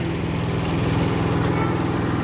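A BCS 8HP mini rotavator tiller drives forward with its engine running steadily, a loud, close, rhythmic low chugging drone that continues unbroken throughout.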